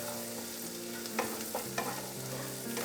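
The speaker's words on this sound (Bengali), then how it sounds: "বাটারের সাথে রসুন ভাজলে কিন্তু খুব সুন্দর একটা গন্ধ বেরোয়" Garlic frying gently in butter over a low flame, a soft continuous sizzle with a few light stirring scrapes, quiet and close with no talking.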